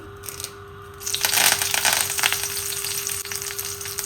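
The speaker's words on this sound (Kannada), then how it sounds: "ಸೊ ಇವಾಗ ಸ್ವಲ್ಪ ಎಣ್ಣೆ. ಸೊ ಮೊದಲಿಗೆ ನಾನು ಕರಿಬೇವನ್ನು ಹಾಕ್ತಾ ಇದ್ದೀನಿ." Curry leaves drop into hot cooking oil in a home kitchen pan and burst into a loud, crackling sizzle about a second in. The frying hiss continues steadily on its own over a faint constant hum.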